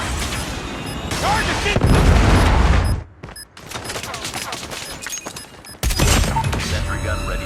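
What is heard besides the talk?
predator missile strike in Call of Duty Mobile video game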